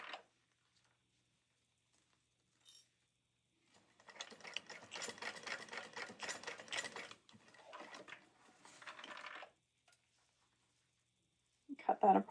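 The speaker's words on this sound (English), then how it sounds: "I just backstitch at the very edge" A sewing machine backstitches the edge of a backpack seam, a soft rapid stitching patter running for a few seconds in quiet bursts, with brief handling noises around it.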